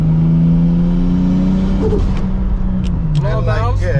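Turbocharged 700hp Toyota Supra pulling hard in third gear, its engine note rising steadily under boost from inside the cabin, with someone talking over the loud drone.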